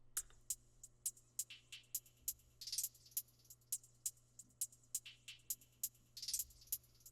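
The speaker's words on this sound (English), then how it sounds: "Then guys, we have the hi-hats, which are going to sound like this." Hi-hat pattern programmed in an FL Studio beat, quiet crisp ticks in a bouncy, uneven rhythm with a couple of brief open-hat washes, over a faint low hum.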